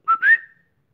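A person gives a short two-part whistle, rising on the second note, to set off a phone-finder app; the whistle is clear and close, alone in silence.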